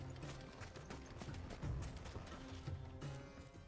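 Horse hooves clip-clop in a steady walking rhythm in the video game Final Fantasy XVI, quiet and continuous against faint background game sound.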